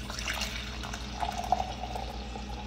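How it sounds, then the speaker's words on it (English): Coffee trickles from a small spouted brewer into a new grip mug, a faint, close, soft stream of liquid over a low background hum. "we're gonna pour it into my new mug"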